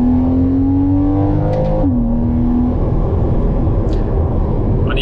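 At nearly full throttle, a Porsche Cayman 981 2.7 PDK climbs in pitch, then drops sharply at a gear change and builds again. The engine runs loud and continuous from inside the car.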